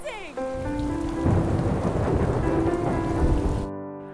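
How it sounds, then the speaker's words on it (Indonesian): Heavy rain pours down at night in a loud, steady downpour, with rumbles of thunder rolling beneath the hiss of water. "Ketika malam, sambil memandangi hujan yang turun begitu lebat"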